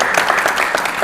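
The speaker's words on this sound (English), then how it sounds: "Give more a round of applause" Audience applause at an antiques gameshow, a dense, steady wash of many hands clapping close and loud for the full second with no voices over it.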